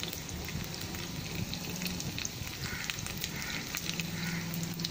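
Mustard seeds, asafoetida and garlic hitting hot oil for a tempering, giving a continuous close sizzle with dense crackling and popping throughout, no voices.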